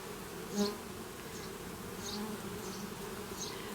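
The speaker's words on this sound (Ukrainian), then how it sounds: "Признавайтесь, чий рій?" A huge honeybee swarm clustered on hive frames gives a steady, close droning buzz throughout, with a few passing bees flying near.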